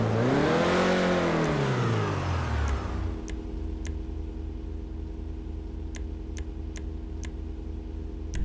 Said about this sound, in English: Now that's some kind of engine.